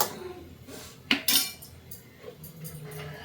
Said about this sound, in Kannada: ಲಿಟ್ಟನ್ನು ಕ್ಲೋಸ್ ಮಾಡ್ಕೊಳ್ಳೋಣ